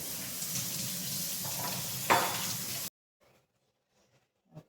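Kitchen tap running while hands are washed during dumpling prep, a steady close hiss of water with splashing that stops abruptly, followed by faint small clicks.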